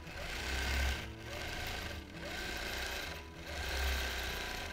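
A quilting machine stitching oak-leaf shapes runs steadily up close, a fast mechanical whir that swells and dips in regular cycles about every second and a quarter, with no voices.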